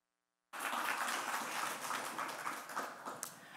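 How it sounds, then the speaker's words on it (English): Audience applause for speakers at an art talk starts abruptly after a brief silence, a dense, even clatter of many hands clapping that holds steady and tapers slightly toward the end. "Please give a warm applause to our speakers."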